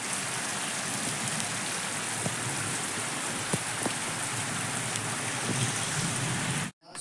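Heavy rain pours steadily outdoors in a dense, even wash of noise for about seven seconds, with a few sharper drips standing out before it cuts off abruptly near the end.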